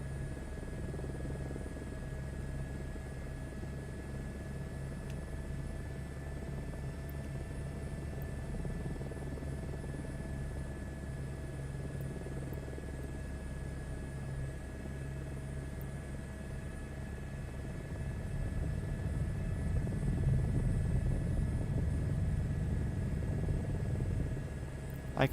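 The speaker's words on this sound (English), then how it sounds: "I can hear your helicopter, which is weird. It doesn't sound like an airplane." Steady rotor drone of a video-game helicopter in flight, a continuous low rumble with a constant engine hum that swells slightly louder near the end, heard alone without talk.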